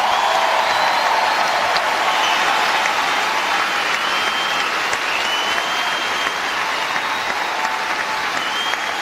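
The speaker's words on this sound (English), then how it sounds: "she deserves an incredible round of applause" A large crowd applauds continuously and loudly at the Australian Open 2017 women's tennis final, with dense, sustained clapping that barely varies in level throughout and no clear voices above it.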